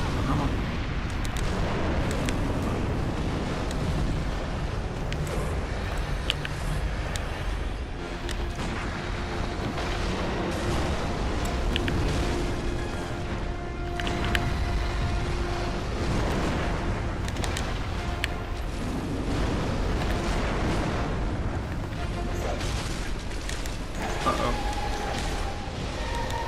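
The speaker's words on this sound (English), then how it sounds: "Like that explosion, like if you're too close, it just kills you." Explosions and booms from the video game Bloodborne burst over a dense, rumbling game soundscape, with repeated heavy blasts and crackling bursts throughout.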